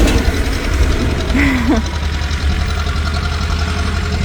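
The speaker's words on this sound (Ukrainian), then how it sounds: "трактор їде" A tractor drives past with a steady, loud low engine rumble throughout, with a brief voice sound partway through.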